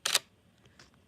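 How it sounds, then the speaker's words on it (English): A Sony a7R III mirrorless camera's normal mechanical shutter fires once, a sharp, close double click, followed by faint soft ticks in an otherwise quiet room. "so you can see normal shutter"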